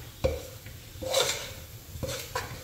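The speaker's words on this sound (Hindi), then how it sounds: "अभी अच्छे से हिला दो सब मिक्स कर दो अच्छे से मिक्स करो दबा के" Churma being stirred and pressed into melted jaggery in a pan gives repeated scraping, clinking strokes of a spoon against metal, roughly one per second, with a faint sizzle beneath.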